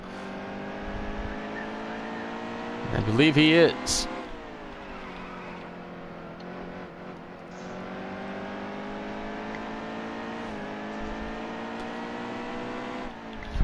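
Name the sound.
race car engines in a sim racing video game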